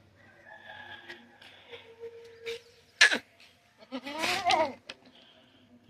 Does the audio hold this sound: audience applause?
no